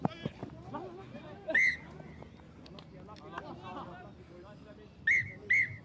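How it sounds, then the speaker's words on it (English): A referee blows short, shrill whistle blasts to end a rugby sevens match, one early and two close together near the end, over crowd murmur and a commentator talking throughout. "And that's the final whistle."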